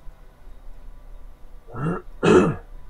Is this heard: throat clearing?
yes